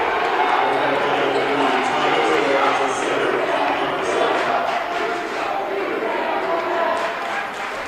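Upset student crowd at a high school basketball game between Portsmouth and Winnacunnet in a gym, a dense, loud roar of shouting voices filling the whole clip with steady intensity and no pauses.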